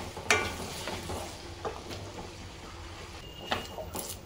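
Half a kilo of salted potato pieces go into hot tempering over a high flame, giving a steady close sizzle with a few sharp stirring clinks and scrapes; no one speaks.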